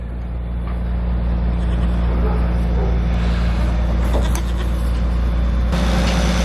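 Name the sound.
farm tractor running TMR feed mixer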